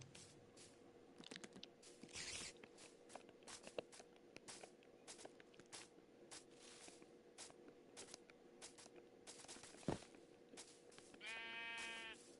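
Sheep bleat in the Minecraft video game, faint wavering calls standing out over quiet clicking keyboard taps and soft in-game footsteps, with one clearer bleat near the end.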